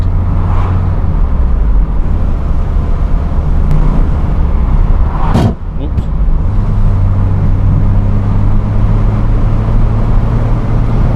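A Peugeot 205 CTi hatchback being driven, its engine droning loud and steady from inside the cabin, with the pitch shifting as it changes gear partway through.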